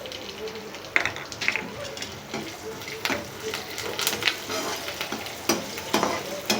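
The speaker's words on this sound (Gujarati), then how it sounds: "ગોલ્ડન બ્રાઉન થાય ત્યાં સુધી થોડું એને ફ્રાય કરી નાખશું." Curry leaves and sesame seeds sizzle and crackle steadily in hot oil in a pan while making a corn chevdo snack, with sharp spatters and stirring scrapes throughout.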